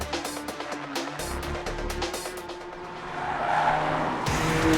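Audi TTS 2.0T FSI quattro with 19-inch wheels lapping a race track in dynamic mode, tires squealing steadily over a droning engine and road noise, the screech swelling louder near the end, no voices.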